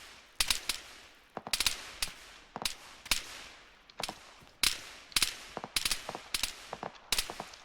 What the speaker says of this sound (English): A lot of heavy fire going.